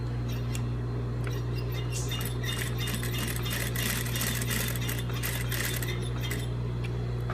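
Sewing machine edge stitching a pocket flap, giving a steady mechanical hum with bursts of rapid ticking stitch clatter that come and go over several seconds.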